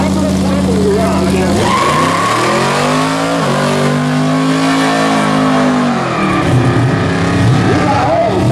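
Pontiac LeMans drag car with a 455 engine, its tires squealing and the engine howling at a drag racing event, loud and sustained, with pitch sweeping up and down and a voice talking over it.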